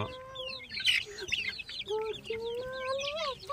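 A flock of 35-day-old Sonali chickens clucks and peeps close by, with overlapping high chirps and short rising calls running without pause throughout.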